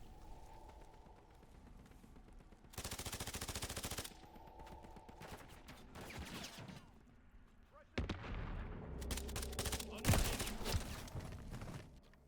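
Gunfire in a first-person shooter video game, bursts of rapid automatic fire in two long stretches with shorter shots between, mixed with game effects over a low background hum, fairly faint overall.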